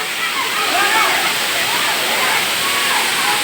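Water from the Sarugudu waterfall roars steadily as it pours down from the hill, a loud, continuous rush that fills the whole scene and stays unchanged throughout.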